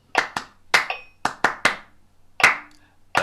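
Hands clapping a short music rhythm with quick semiquaver pairs and longer gaps, crisp close claps in an uneven pattern of about eight strikes with near silence between them.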